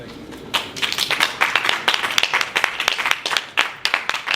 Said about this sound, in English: If I didn't get any claps, I was going to be upset.